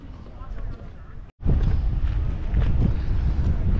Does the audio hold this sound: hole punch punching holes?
no